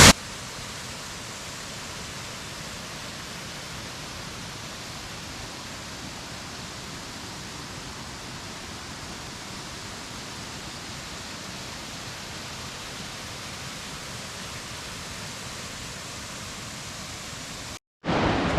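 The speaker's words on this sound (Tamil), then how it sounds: "Beautiful falls. வாங்க பெரிய ஃபால்ஸை பார்க்கலாம்." A waterfall and its river at Tapalpa, Mexico, give a constant, dense roar of rushing water that holds steady and loud for about eighteen seconds before a brief cut at the end. No voices are heard.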